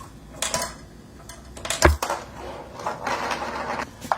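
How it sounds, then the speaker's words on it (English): Sparse, irregular clicks and taps as a marble rolls and knocks around inside a small homemade snare drum emptied of rice, with one sharp louder hit midway. "So now all the rice is gone from the snare drum,"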